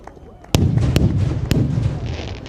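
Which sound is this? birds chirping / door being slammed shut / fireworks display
fireworks display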